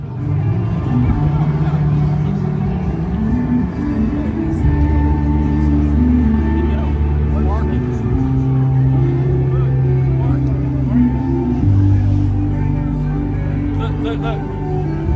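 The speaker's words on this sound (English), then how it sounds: "enjoy the sights and the sounds of what it's like to walk through the vendors at OC Rock and Ride" Along the Inlet vendor area at Ocean City, Maryland bike week, motorcycle and vehicle engines rumble and pass steadily nearby. Voices talk throughout the outdoor crowd noise.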